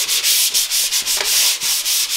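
Worn 80-grit sandpaper rubs across a melamine surface in quick, rhythmic back-and-forth strokes, a loud, close, gritty scratching with brief pauses between passes.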